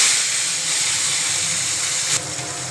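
Salted bitter gourd, squeezed of its water, hits hot oil in a pan and gives a loud, steady hissing sizzle that holds evenly with a small flare near the end.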